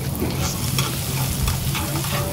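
Garlic frying in a hot pan (kawali) for garlic fried rice with egg and pork, a dense, steady close sizzle with light stirring scrapes and no talking.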